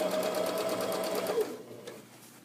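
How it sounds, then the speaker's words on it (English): A sewing machine stitches along welted pillow cover edging with a rapid, even needle rhythm that slows and fades out near the end; no voices. "I'm going to sew it right along this edging and then pick it up right here."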